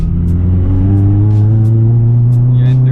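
Tuned K24-swapped 8th-gen Honda Civic Si pulling hard in first gear, a loud, close engine roar that climbs steadily in pitch with strong rumbling harmonics.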